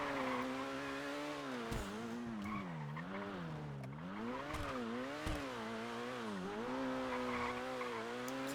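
Sustained tire squeal from a car skidding in a video game, its pitch wavering up and down as the car slides through turns, with a few sharp clicks over the top.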